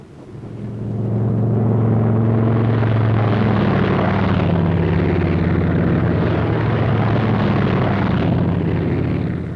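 WWII squadron of propeller aircraft taking off, a loud, sustained droning engine roar that swells in over the first seconds and holds steady, with layered throbbing tones and no speech.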